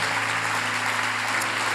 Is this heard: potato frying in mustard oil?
no